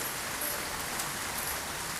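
Heavy monsoon downpour hisses as a constant dense wash of rain, even and unbroken throughout, with no voices.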